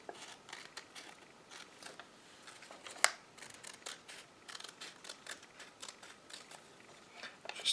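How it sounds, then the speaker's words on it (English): Scissors cut around an oval shape in paper for a sun paper craft, a quiet run of small snipping and crinkling sounds in an irregular rhythm, close and soft, with one sharper click midway. "keeping those scissors pointed away from myself all the way around"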